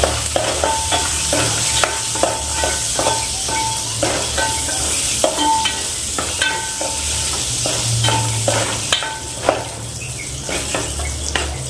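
Cashews fry in oil in a pan while a spoon stirs and scrapes repeatedly over a steady sizzle during palak paneer curry prep, with no talking.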